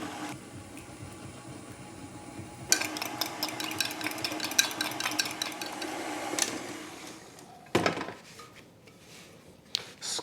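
Eggs beaten in a bowl by hand, a fast rapid clatter of a whisk or fork against the bowl running for several seconds, fairly close, with a few louder knocks toward the end.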